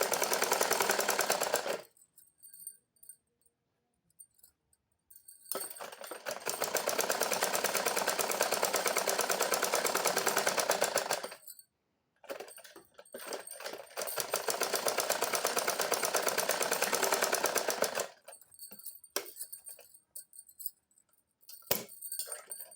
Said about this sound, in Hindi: इस प्रकार करके हमें ऐसे रख के सिलाई लगा लेनी है।